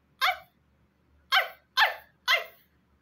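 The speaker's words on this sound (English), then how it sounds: "That's a seal, not a dog." Four sharp barks from a seal, one alone and then three in quick succession, loud and close against a quiet background.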